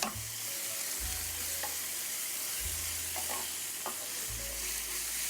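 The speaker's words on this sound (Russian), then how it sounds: "Разогреваю сковородку, наливаю растительное масло, отправляю обжариваться сначала лук до легкого золотистого цвета" Onion fries in vegetable oil in a hot pan, with a steady, close hiss and sizzle, occasional scraping stirs and a low background hum.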